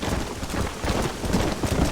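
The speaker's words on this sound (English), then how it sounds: "We're not gonna be able to hear each other in this rain." Heavy rain and thunder in the video game Red Dead Redemption: a dense, continuous downpour hiss with low rumbling swells, loud and steady, with no voices over it.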